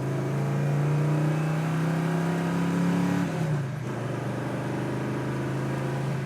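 A 1967 Chevrolet Chevelle SS accelerates hard through the gears, its engine droning loud and steady up close, with a brief dip in pitch at a shift before the roar carries on.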